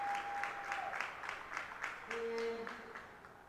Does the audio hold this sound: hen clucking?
no